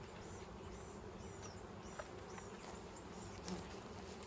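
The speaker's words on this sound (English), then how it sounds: "So even though there's a lot of bees, as you can tell in the air" A dense, steady buzz of many honeybees at a nuc installation fills the air, faint and continuous, with individual bees droning past now and then.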